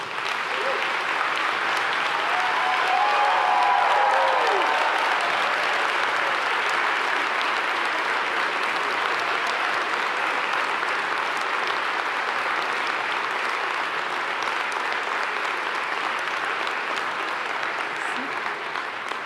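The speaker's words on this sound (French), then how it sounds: "je vous invite à vous lever, s'il vous plaît, et à applaudir chaleureusement vos collègues et amis" A graduation ceremony audience applauds the graduates, long, steady, dense clapping from a large crowd in a hall that carries on at an even level with no break.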